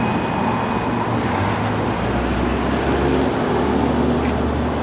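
A Peugeot 504TI Automatic drives along the road, its engine a steady low drone under broad road and wind noise, heard from close by, continuous and fairly loud, with no voices.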